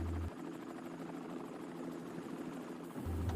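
A video game helicopter flies nearby with a steady rotor drone and rhythmic blade chop at moderate loudness, dipping slightly in the middle before a low hum returns, with no voices.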